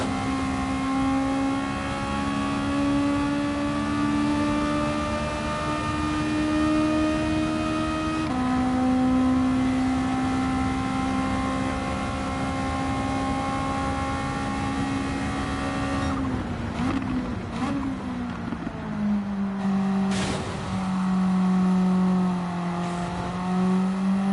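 A 1983 Toyota Corolla Group A race car laps Spa on a drying track, its engine droning steadily with rising and falling pitch through gear changes and revs, heard from inside the car with no talking.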